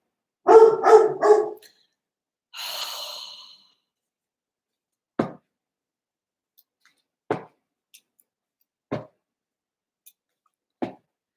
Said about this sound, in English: I'm getting all the dogs riled up.